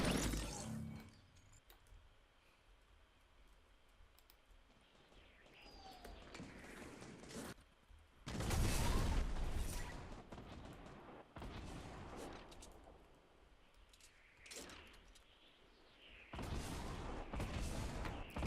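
Gunfire in the video game Fortnite: bursts of shots and heavy booming blasts come in clusters, some loud and near, others more distant, with quieter stretches between.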